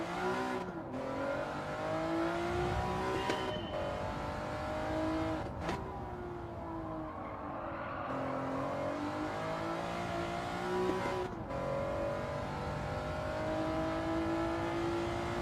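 A race car engine in a sim racing game revs continuously, its pitch climbing and dropping through gear changes with brief sharp shifts, loud and steady throughout with no talking.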